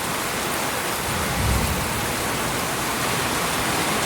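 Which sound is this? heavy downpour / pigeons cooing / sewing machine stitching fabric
heavy downpour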